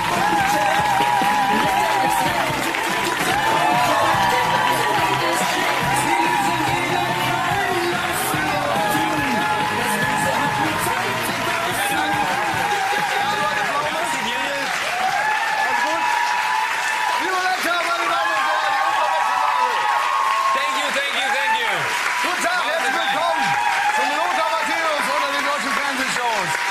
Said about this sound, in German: da könnt ihr direkt wieder klatschen